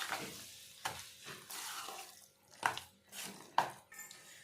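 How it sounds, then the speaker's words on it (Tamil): Semolina batter with water and baking soda being stirred by hand in a bowl, giving repeated wet scraping and slapping strokes in an uneven rhythm, close and moderately loud, with no talking. "கொஞ்சமாக மறுபடியும் தண்ணி தேவைப்பட்டால் ஊற்றி இந்த அளவுக்கு வர மாதிரி கலந்துக்கணும்."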